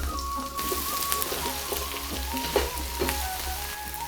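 Cumin seeds and cut aubergines fry in hot oil in a pan, making a bright, crackling sizzle with scattered pops and a faint low hum underneath, close and continuous.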